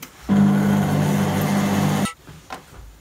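A kitchen food processor runs at low speed with dough ingredients in the bowl, giving a steady loud mechanical whir for about two seconds that stops abruptly, followed by a faint click.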